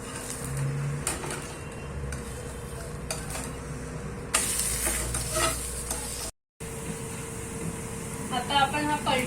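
Besan chila sizzles steadily in a pan, broken by scraping and stirring as it is flipped, with a brief dropout and a voice talking over the frying.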